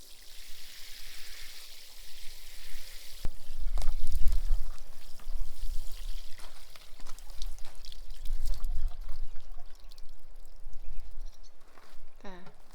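Water pours and trickles steadily over a stone wall of a Scottish country house being soaked before demolition, a continuous splashing wash with heavier surges, close by.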